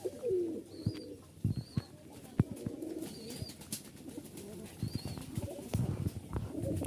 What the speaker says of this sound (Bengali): রাজশাহীর সবচেয়ে বিখ্যাত সুন্দরী কবুতর